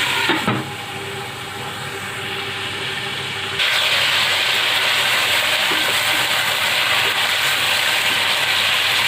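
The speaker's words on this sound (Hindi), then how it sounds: "चिकन फ्राई हो रहा है" Chicken frying in a pan gives a loud, steady sizzling hiss that swells sharply partway through and then holds continuous and close with no pause.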